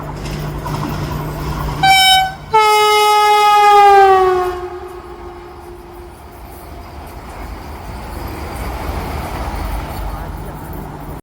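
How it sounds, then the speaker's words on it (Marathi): A train pulls into a crowded station, sounding a loud, sustained horn blast that bends down in pitch, then fades into a low rolling rumble of the cars, with voices nearby. "ट्रेन आले समोर"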